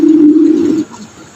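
An Andalusian Mondain pigeon gives a single close, loud, low cooing note that sustains briefly and then stops.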